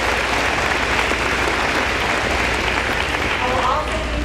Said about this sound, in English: Please give a round of applause for Carrie Massey.